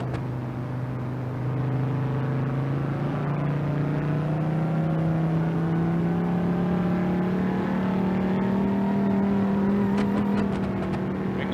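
A car accelerating down a drag strip in the video game BeamNG.drive: a loud, steady engine drone whose pitch climbs slowly and evenly over about ten seconds, with a faint ticking rattle near the end.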